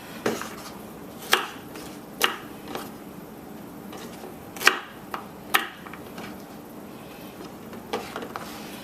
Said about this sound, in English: Next up, the okra, all you're going to do is remove the stem and the tip